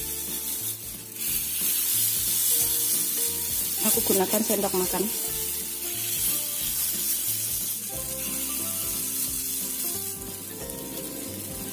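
Tape (fermented cassava) batter sizzling steadily in a hot mold pan over low heat, a close, continuous frying hiss with light scraping, while someone speaks briefly over it and background music plays.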